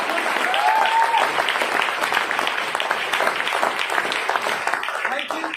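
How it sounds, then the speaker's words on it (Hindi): Loud, sustained applause from an audience at an AWPL sixth anniversary event, greeting Mr. Vipin; dense clapping fills the whole stretch with a brief whistle early on and voices mixed into the crowd. "मैं चाहता हूं मिस्टर विपिन सर के लिए अब तक की सबसे जोरदार ताली होनी"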